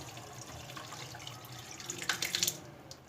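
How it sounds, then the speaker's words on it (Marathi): Water pours and trickles close by through a sieve, a soft running splash that grows brighter and spattery toward the end. "हे जे राहिलेलं पाणी आहे ते आपण चाळणीवर गाळून घेऊया"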